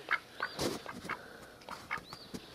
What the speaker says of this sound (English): he's a beautiful duck, man.